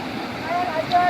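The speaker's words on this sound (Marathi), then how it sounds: "नदी बघू शकता कशी वाव राहिली इथं तर आपण आता इथं नदीवरती आलोय" A river flows steadily past an outdoor birthday outing, its rushing wash mixed with wind noise while a voice speaks faintly over it.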